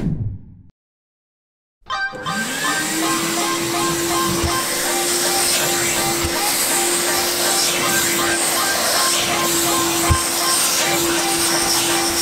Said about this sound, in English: let's grab our vacuum cleaner and clean all dirt from inside the car.